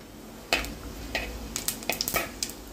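Cumin seeds hitting hot oil in a pan for tempering, a soft crackling sizzle with several quick spoon or pan clicks close by, fairly quiet, no voices.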